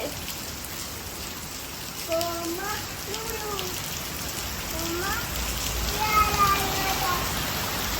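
Rain falls in a continuous, even hiss, while voices with rising and falling pitch sound briefly over it at intervals.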